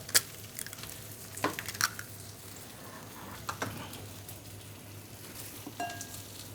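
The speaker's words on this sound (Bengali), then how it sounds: "এবার ডিমটা ভেজে নেব, মানে মামলেট করে নেব।" An egg fries for an omelette in a pan with a little oil over high heat, giving a steady soft sizzle with a few sharper crackles and scraping taps, without talk.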